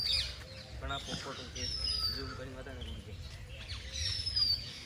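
Thin, high bird chirps come and go against a quiet, slightly rumbly background, with a few faint murmurs.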